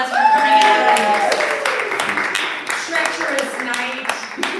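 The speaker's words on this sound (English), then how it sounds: "Give yourselves a round of applause for coming out" Scattered audience clapping at a live event, a modest round of applause with individual claps audible, mixed with cheers and voices throughout.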